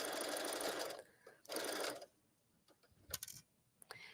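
A serger runs in short bursts stitching a fabric seam on a twisted collar, a fast whirring buzz that starts and stops, followed by quiet mechanical clicks and handling.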